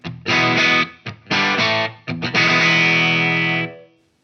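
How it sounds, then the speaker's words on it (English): Distorted electric guitar through a Line 6 HX with reverb off strums in short dry bursts, chords cutting off abruptly between hits, ending with one longer sustained chord. "So this is without the reverb."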